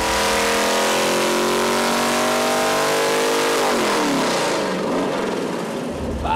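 A 351 small block V8 on an engine dyno revs hard at full load, a loud sustained roar with rising harmonic tones that drops off sharply partway through and trails into a rougher, lower rumble.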